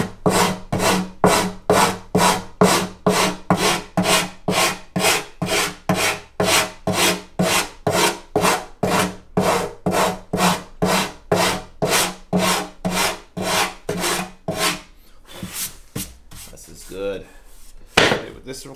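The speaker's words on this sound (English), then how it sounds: "So straight sandpaper on flat surface here." Sandpaper is rubbed back and forth on a flat surface while sanding veneer on an acoustic guitar bevel, making a close, steady series of rhythmic scratchy strokes that slows and fades near the end.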